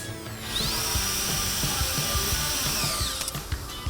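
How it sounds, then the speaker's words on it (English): A high-pitched power tool spins up and runs steadily for a few seconds, then winds down, close by with faint rattling underneath. "Oh, now we get to use the power tools."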